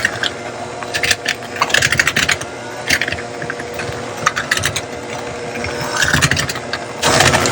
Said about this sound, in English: we're just gonna keep whisking it on the slowest one, just because we don't want it to get too messy